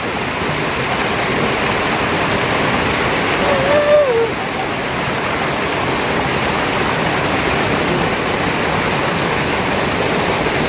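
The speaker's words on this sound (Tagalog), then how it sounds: "Sarap ng ano, yung maliit na waterfalls lang." A small waterfall at Tukuran Falls in San Teodoro, Oriental Mindoro, pours in a loud, steady rushing roar close by, with a brief voice heard faintly under it.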